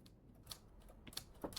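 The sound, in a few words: someone typing on a keyboard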